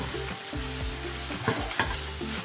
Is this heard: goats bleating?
no